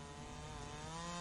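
A chainsaw runs steadily at full throttle on a large cedar tree, its engine drone loud, close and continuous, with a strong harmonic whine and no pause.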